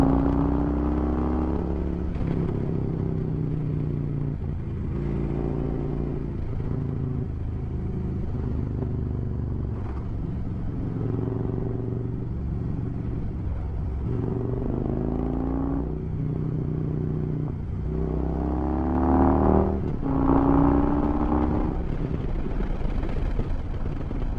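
An old Harley-Davidson motorcycle ridden along Yokohl Road near Sequoia National Park, a steady low engine rumble with wind noise, the pitch rising and falling with shifts and throttle changes, close and continuous.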